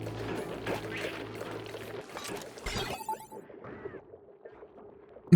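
Water gushing and draining away inside the Oxygen Not Included video game after several tiles are deleted, a steady pouring wash with game effects over it that thins out partway through, ending in a sharp burst.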